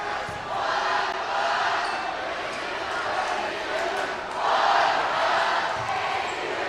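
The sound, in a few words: loud crowd at a high school basketball game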